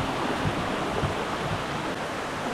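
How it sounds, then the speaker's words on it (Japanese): A waterfall in a mountain gorge in Nara Prefecture roars as a steady, dense broadband rush of falling water, loud and continuous with no voices. "ようやく目的の滝に着いたようです。"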